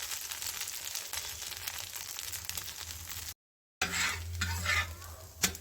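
Dosa batter with tempering cooks on a hot pan until golden brown, a soft continuous sizzle with scraping stirs, a short silent break, then louder crackling and a sharp spatula scrape at the end.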